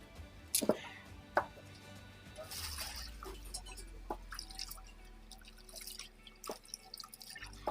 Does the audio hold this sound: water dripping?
yes